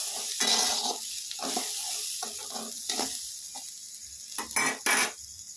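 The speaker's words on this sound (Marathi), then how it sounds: "तेल टाकून त्याला हालवून घ्यायचं अजून परत" Corn kernels are stirred in hot oil in a pan, with a spoon scraping and clattering in uneven strokes over a constant close sizzle. The stirring is sharper and louder near the end, and no one speaks.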